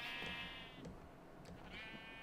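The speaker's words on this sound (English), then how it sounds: "I did set up a quick sheep pen, and I need to breed these actually." Sheep bleating in a pen in the Minecraft video game: two wavering bleats, one at the start and one near the end, over a steady low background hum.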